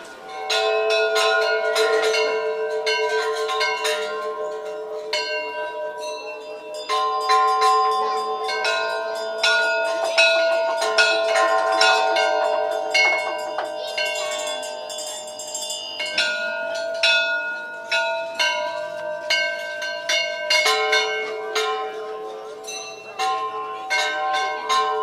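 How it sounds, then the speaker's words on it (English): Prayer bells ring continuously around Boudhanath stupa in Kathmandu, many bright metallic tones overlapping and restruck in irregular rhythm, loud and reverberant for the whole stretch. "it's just lovely to hear all the bells"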